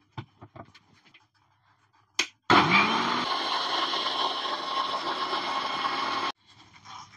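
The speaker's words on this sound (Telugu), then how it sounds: "ఇగో ఇప్పుడు మిక్సీ పట్టుకుందాము." A kitchen mixer grinder blends buttermilk masala with water, starting abruptly and whirring loudly and steadily for about four seconds before cutting off; soft handling clicks come before and after.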